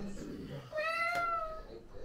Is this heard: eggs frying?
no